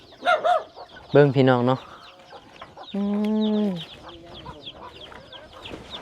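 Chickens cluck in a remote rural Lao village of the Bru Tri people, loud bursts of clucking near the start and middle, with someone talking over and between them.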